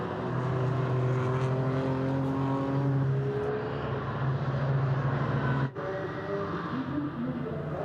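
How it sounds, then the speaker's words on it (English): A BMW race car from FK Performance Motorsport, an SP10 GT4 class entry in the Nürburgring endurance series, roars through the fast section of the Grand Prix circuit, its loud engine drone rising and sweeping past, then cutting briefly near the end. "through the fast section of the Grand Prix circuit goes the 187 BMW FK Performance Motorsport"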